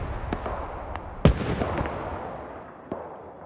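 Tank cannon fire from a Panzer IV and T-34 in a WW2 armor battle game: one sharp, loud boom followed by a rumbling decay, with a few fainter distant shots around it.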